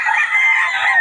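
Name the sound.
rooster crowing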